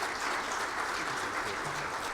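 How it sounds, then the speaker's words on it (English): Steady applause from an audience fills the whole moment, a dense even patter of many hands clapping without a break. "please give him a round of applause for helping to put this terrific program together."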